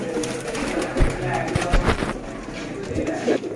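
Pure Sialkoti rooftop pigeons coo and shuffle among a flock, with soft murmuring coos, wing flutters and thumps over someone talking nearby.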